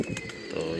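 Sialkoti pigeons, a pure breed, give a short low coo close by over a soft background murmur.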